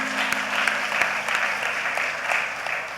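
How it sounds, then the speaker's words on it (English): Warm crowd applause at an International Women's Day event, steady and dense clapping filling the whole three seconds without a break. "Can we please give her a warm applause?"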